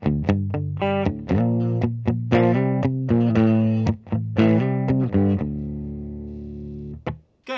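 A 2021 Fender Kurt Cobain Jagstang electric guitar on its bridge pickup plays loud, distorted chords with effects, a rapid run of strummed hits followed by a long ringing chord that fades, then a final stab.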